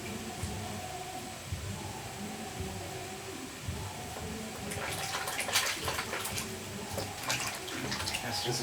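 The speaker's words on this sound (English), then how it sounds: "You know, you just wash like this. Just rinse it very well." Tomatoes rinsed under running water from a tap in a kitchen, a steady near stream that grows louder and splashier halfway through, with faint talk underneath.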